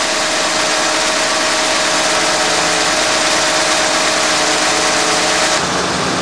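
A 1991 Mercedes-Benz 420 SEL engine idles steadily with the hood shut, a loud, even mechanical drone that holds constant before a slight shift in tone near the end, with no talking.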